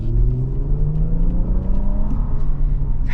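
2026 Infiniti QX80 engine revving under acceleration, a loud, smooth low rumble heard from inside the cabin with rising tones that climb steadily throughout.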